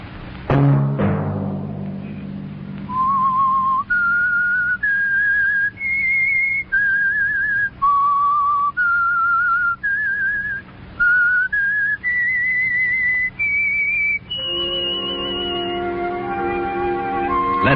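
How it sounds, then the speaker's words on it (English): The Whistler radio show's theme is whistled as a clear, lone melody of sustained notes, rising and falling in short held phrases, followed by a swelling orchestral chord. "Let that whistle be your signal for the Whistler each Sunday night"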